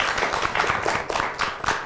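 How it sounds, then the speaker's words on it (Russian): Audience applause at a television talk show, a steady wash of many hands clapping, fairly even and moderately loud throughout. "Поэтому еще раз аплодисменты как профессионалу."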